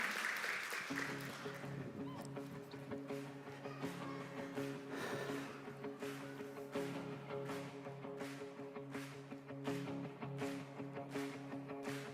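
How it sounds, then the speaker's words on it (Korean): A church congregation claps warmly to welcome a missionary to the stage at a Sunday service, steady scattered clapping lasting throughout over sustained organ or keyboard chords, fairly quiet and distant. "선교사님 올라오실 때 우리 뜨거운 박수로 한번 환영해 주시고요"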